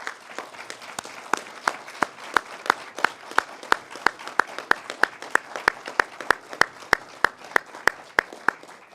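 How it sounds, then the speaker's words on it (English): Cuban collaborators in Namibia give a strong round of applause, though the claps are sparse and evenly spaced, landing like a steady rhythmic clapping beat over a soft crowd bed. "make a strong round of applause in gratitude to Namibia"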